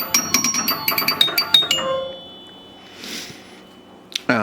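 A Bally Night Rider solid-state pinball machine booting up with a quick run of bright, ringing chimes, about a dozen strikes in rapid rhythm, then quiet hum and a soft whoosh before one final sharp chime.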